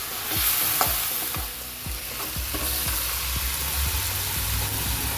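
Onion paste and garam masala fry in a pan with a steady sizzle, punctuated by a series of scraping stirring strokes at a fairly regular pace, close and without talk.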